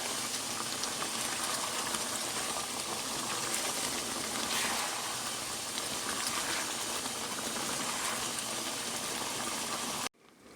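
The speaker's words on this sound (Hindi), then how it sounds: "ये देखें अपने ही पानी में, सिरके में ये भुन रही है" Chicken sizzles and bubbles in its own juices and vinegar over high heat, a dense, even hiss that runs steadily and close before cutting off abruptly near the end.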